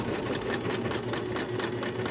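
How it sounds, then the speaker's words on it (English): A sewing machine runs steadily, stitching two pieces of bias binding together, its rapid needle chatter forming an even, continuous mechanical buzz close by with no pauses. "We're going to stitch these two pieces together."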